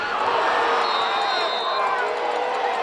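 Football stadium crowd reacting, a broad roar of cheering and babble captured through a shotgun microphone, steady and full with a brief whistle-like tone riding above the noise.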